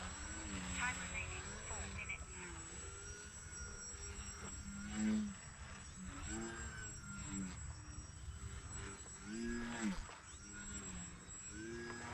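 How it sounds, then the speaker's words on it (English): A small 32-inch Bayer Model Laser RC plane's engine buzzes steadily overhead, its pitch rising and falling as it passes, while someone talks over it. "this is a good flying plane though"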